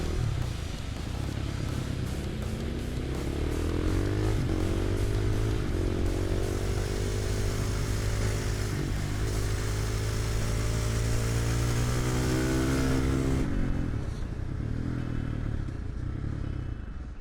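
A supermoto motorcycle on a race track at a track day, its engine revving steadily and loud up close with rising and falling pitch through gear changes, then easing off near the end.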